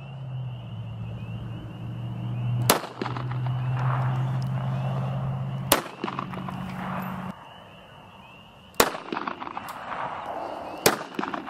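Shotgun blasts ring out outdoors, four sharp, loud reports spaced a few seconds apart over a steady background hum.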